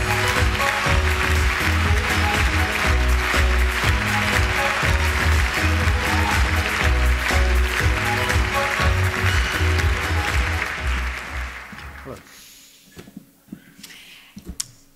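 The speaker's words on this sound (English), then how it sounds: "please shake, rattle, roll, and applaud wildly" An audience at the BAFTA awards ceremony applauds loudly and continuously, a dense clapping roar that fades away after about ten seconds into a quiet hall with a few isolated claps.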